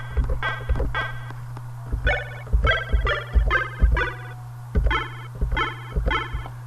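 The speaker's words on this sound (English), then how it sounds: "So let's play that chord." Chord played in the Arkos Tracker chiptune music tracker: bright, buzzy square-wave tones repeat in short rhythmic stabs over a steady low hum, about a dozen bursts at moderate loudness with no talking.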